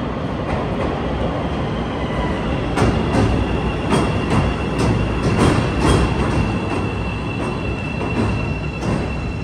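A metro train rumbles into the station, wheels clattering rhythmically over rail joints with a faint squeal, loud and close throughout.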